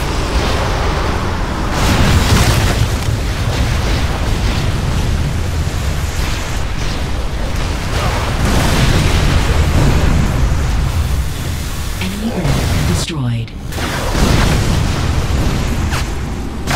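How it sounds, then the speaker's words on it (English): Barricade blown apart in an Unreal Tournament 3 multiplayer match on the Downtown map: a loud, sustained roar of explosive rumble and debris noise, with a brief dip and sharp burst near the end. "Barricade destroyed."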